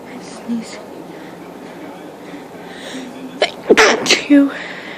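A close, sharp sneeze bursts out near the end after several seconds of quiet strained breathing and small vocal sounds, followed by a brief tail of breath.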